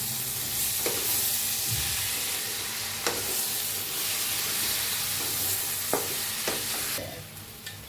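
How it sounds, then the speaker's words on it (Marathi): Potato and brinjal curry being stirred in a pan after finely ground crushed peanuts go in, with soft steady sizzling and several distinct spoon scrapes against the pan, close and alone with no talk. "शेंगदाण्याचं कूट घेतलाय बघा असा बारीक कुटून घेतलाय मिक्सरला ते टाकूया भाजी मिक्स करूया"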